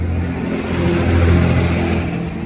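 Large yellow Volvo vehicle with its engine revving close by, a loud sustained low rumble that swells briefly in the middle before settling, with no voices over it.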